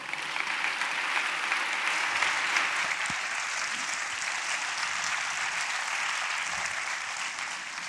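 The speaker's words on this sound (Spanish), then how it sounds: "Un fuerte aplauso para nuestro poeta." Warm audience applause for a poet in the Teatro Zorrilla, a broad continuous patter of many hands filling the hall at moderate level, steady throughout with a few sharper individual claps standing out.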